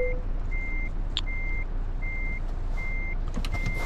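Steady repeating reversing beeps from a truck parking in Euro Truck Simulator 2, evenly spaced tones over a constant low engine rumble.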